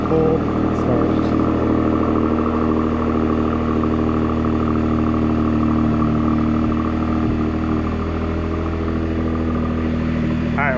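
E85-fuelled engine at a cold start, running steadily with a dense, even mechanical drone throughout, close and loud with no talk over it.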